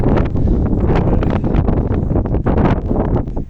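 Strong wind buffets the microphone at an old Cossack cemetery in Kremenets, a loud, continuous roaring rumble with gusty fluctuations and no voices.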